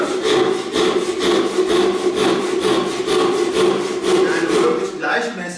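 A hand saw rasps steadily through wood in even back-and-forth strokes, close and loud, with no talking over it.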